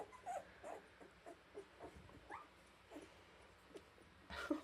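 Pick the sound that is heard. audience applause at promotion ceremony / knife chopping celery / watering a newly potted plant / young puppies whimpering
young puppies whimpering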